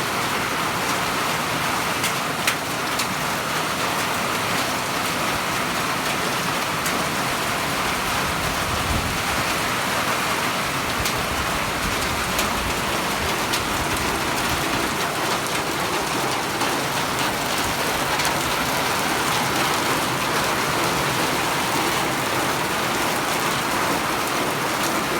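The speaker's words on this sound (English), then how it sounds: "Now the hail has started." Hail pelting a tin roof during a storm, a steady dense patter with a rain-like hiss that holds for the whole stretch, continuous and fairly loud with no clear gaps.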